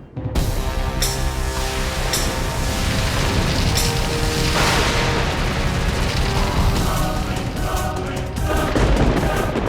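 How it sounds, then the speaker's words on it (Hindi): Fireball attack explosions from a superhero TV show, a continuous dense barrage of booming blasts and crackling bursts, loud and close throughout with no pauses. "भयंकर परियों, आग के गोलों से आक्रमण करो।"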